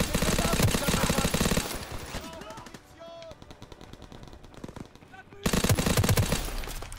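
Rapid automatic gunfire in Call of Duty: WWII, loud and dense for the opening two seconds, breaking into scattered shots and clatter, then another sustained burst near the end.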